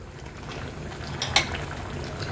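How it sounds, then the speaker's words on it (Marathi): Dal dhokli bubbling in a pot on a high gas flame, a steady soft seething simmer with one brief clink of a utensil. "हाय फ्लेमवर ह्याला एक छानशी उकळी काढून घ्यायची"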